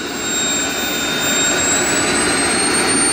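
A giant R/C model jet's turbine engine spooling up, a loud steady roar with a high whine rising slightly, close by and alone.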